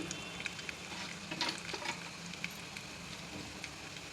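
Cumin, urad dal and a pinch of fenugreek powder sizzle in a pan for a spinach curry, a quiet, continuous crackling fry with small pops throughout.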